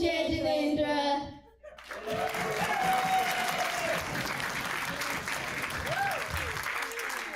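An audience at a community prayer gathering claps steadily and loudly for a group of children, sustained applause filling the room after an opening stretch of voices and tones, with scattered talk underneath.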